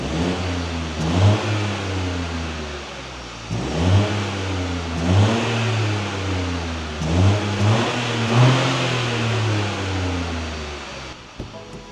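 A BMW 118i on its original exhaust setup revs repeatedly from idle, four or five rising and falling pulls at close range, with a steady mid-pitched drone between revs and no talking.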